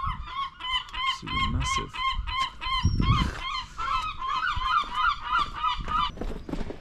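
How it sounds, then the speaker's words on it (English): A seagull in England gives a long run of loud, repeated squawking calls in quick rhythm, close by, while a person briefly speaks. "See, look at that seagull."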